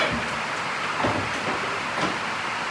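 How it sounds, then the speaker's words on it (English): Rain falls in a steady, even hiss that fills the whole clip, with a few soft knocks and taps scattered through it and no voices. "Oh, It's raining."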